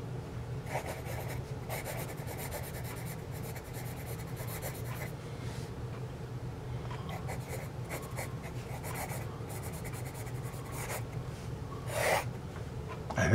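A vintage Dixon Typhonite Eldorado 5H hard graphite pencil writes on paper close up, a dry scratchy rasp of short strokes that come in bursts with brief pauses between them.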